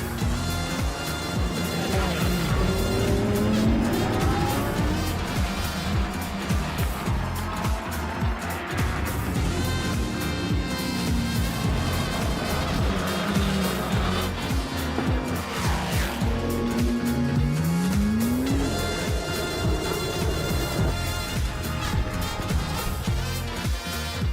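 GT race cars battle hard into a corner at Estoril during a winter series race, with loud, continuous engine roar, rising and falling revs and downshifts as they brake, and brief tire squeals, all heard close and sustained.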